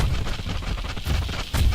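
A gunshot booms in the XCOM Long War strategy game, a heavy muffled blast repeating several times over a dense low rumble.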